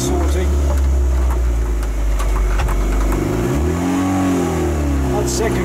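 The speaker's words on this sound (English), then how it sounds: "at least it's running, revving a bit high" Restored Raffo Belva engine runs loud and close, rising and falling as it revs with a rough mid-pitched drone, with people talking over it.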